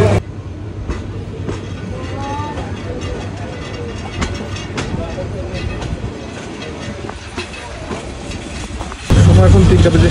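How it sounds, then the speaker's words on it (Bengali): The Paharika Express pulls out of Kulaura station with a steady rolling rumble and rhythmic wheel clatter, heard from on board over faint background voices. "লম্বা একটা বিরতি দিয়ে আমাদের ট্রেন ছেড়ে যাচ্ছে কুলাউড়া স্টেশন থেকে"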